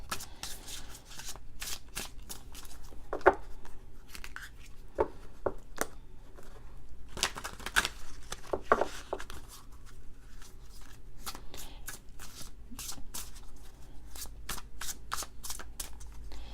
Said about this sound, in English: I kind of continue to tap in and shuffle the cards.